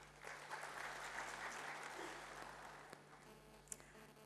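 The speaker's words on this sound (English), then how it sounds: "can we have a long round of applause for the dignitaries again?" An audience at a formal ceremony gives a round of applause for dignitaries, a faint, distant and steady patter of clapping that gradually tapers off.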